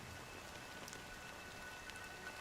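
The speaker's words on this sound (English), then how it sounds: "But it's still raining." Rain falls steadily in the video game Honkai: Star Rail, a dense, even patter heard alone, faint and without any breaks.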